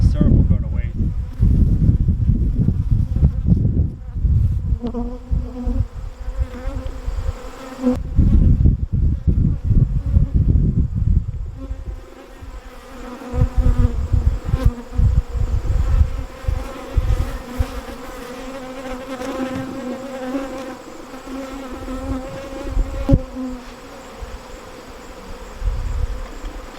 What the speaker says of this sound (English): the bees will go in here. They'll clean up all the sugar water